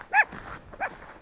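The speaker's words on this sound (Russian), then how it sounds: "Смотри, там еще одна банда собак." Village dogs bark outdoors, giving two short loud barks about half a second apart.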